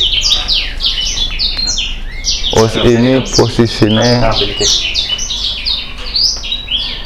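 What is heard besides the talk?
caged birds chirping in an aviary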